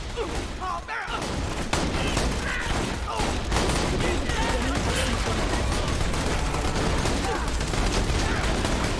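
Rapid gunfire in the shooter game Borderlands 2 rattles in dense, nonstop bursts for about nine seconds, loud and busy, with booms and action noise mixed in and voices heard at times.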